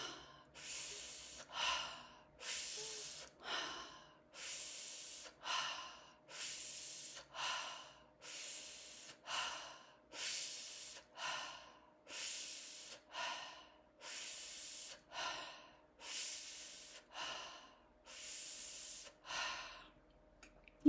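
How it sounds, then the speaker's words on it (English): Slow, deep breaths drawn in and pushed out through the mouth, about a dozen even cycles, each a close, airy rush that swells and fades in a steady rhythm with no talking. "Breathing in, pulling that air in,"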